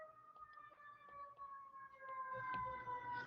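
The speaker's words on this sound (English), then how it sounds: "all these sirens, I'm thinking, is there a building burning and I'm sitting here casually teaching" Emergency sirens wail outside a building during a chemistry lecture, several overlapping steady tones rising and falling at a distance, growing slightly louder toward the end with no talk over them.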